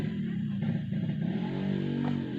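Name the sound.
Yamaha RX King motorcycle revving, stainless Cobra PDK exhaust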